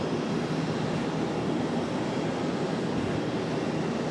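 An American Airlines A321 arriving from RDU at a busy Charlotte hub makes a steady, broad jet roar that stays constant and fairly distant, with no voices over it.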